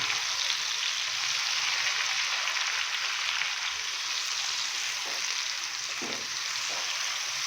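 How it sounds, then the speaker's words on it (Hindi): Chicken frying in a pan over a high flame for Hyderabadi masala chicken, a steady loud hissing sizzle with a few soft stirring knocks near the end. "और हाई फ्लेम पे हम 5 मिनट के लिए चिकन को अच्छे से भून लेंगे"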